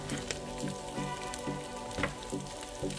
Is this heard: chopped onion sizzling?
yes